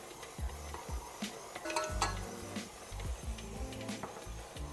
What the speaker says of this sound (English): just keep an eye on your mixer, because this one's trying to run away